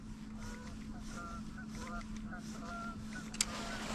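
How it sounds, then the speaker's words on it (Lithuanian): A goose honks in repeated short calls at a lakeside fishing spot. The calls are faint and distant over a steady low hum, and a brief sharp click comes near the end. "Žąsis dar neišskrido. Kažkonas paskutiniu laiku ilgai čia užsilaiko."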